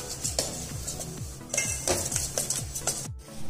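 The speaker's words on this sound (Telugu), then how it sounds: "గరిటెతో కదుపుకుంటూ ఫ్రై చేసుకోండి" Broken wheat being stirred and fried in a kadai with a ladle, with repeated soft scraping strokes and a light sizzle in a steady rhythm, close by and with no talk.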